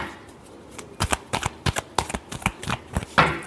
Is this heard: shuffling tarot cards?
yes